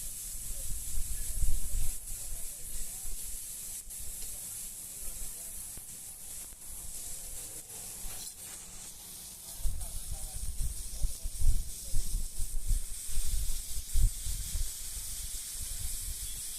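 Onions sautéing on a very hot griddle for a goat intestine kothukari sandwich, a loud continuous hiss and sizzle with rumbling bursts of scraping and clatter near the start and again in the second half.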